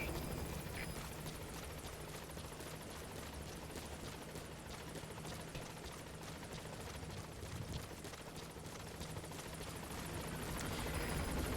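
A helicopter in the video game Metal Gear Solid V hovers with a constant low rotor thrum, faint and unbroken throughout, without talk.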